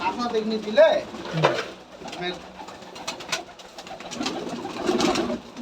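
Giribaz pigeons coo in soft, low repeated calls alongside faint chirps and scattered clatter at a pigeon farm, with people talking nearby throughout.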